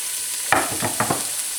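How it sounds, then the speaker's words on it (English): Chopped Spanish onion hits hot olive oil in a pan, giving a steady close sizzle broken by a few sharp clattering bursts as the pieces go in and are moved around. "first thing in is the Spanish onion. I've got the olive oil on nice and hot here in the pan."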